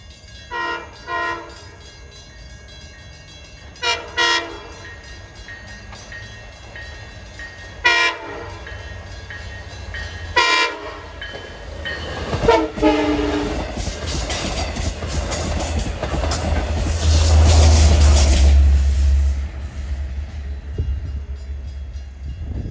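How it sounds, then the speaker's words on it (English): A passenger train on the Montauk Branch, a cab car run out of Montauk toward Jamaica, sounds several loud horn blasts in a grade-crossing pattern while the rumble of the passing cars builds and swells close by. "Blowing for Lincoln Avenue and Railroad Avenue behind me."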